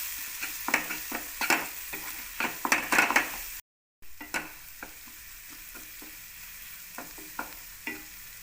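Spices being stirred into a pan mixture for a dry drumstick-pod stir-fry: repeated close scraping strokes of a spoon against the pan over a soft sizzle, with a brief silent gap midway, no talking.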